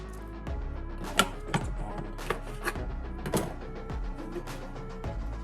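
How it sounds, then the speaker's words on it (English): A food processor chopping garlic gives a mechanical whirring drone broken by several sharp clattering knocks and pulses, close and fairly loud, with no voices. "I'm going to get my garlic in the food processor."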